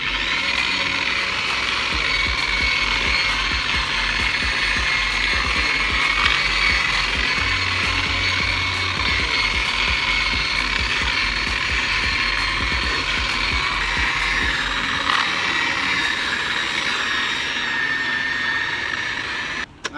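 A buffing machine polishes the paint on a 1984 Honda Accord with a steady, loud mechanical whir and grinding hum that holds for the full stretch, then cuts off abruptly at the end.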